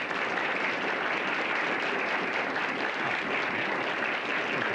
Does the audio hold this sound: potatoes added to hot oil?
no